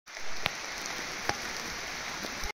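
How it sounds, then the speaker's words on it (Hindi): Steady rain patters on a surface close by, a constant hiss with a few louder drops, ending abruptly. "फिर से बारिश हो रहा है दोस्तों"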